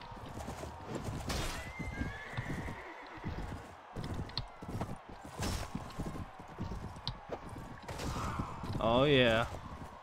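Horses in the video game Mount & Blade: Warband clip-clop through a battle, and one horse gives a loud, close whinny near the end over a busy mix of hooves and clashing.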